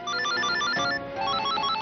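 A mobile phone ringtone plays indoors: a short, bright, melodic electronic tune with a few repeating notes, heard clearly with no talking.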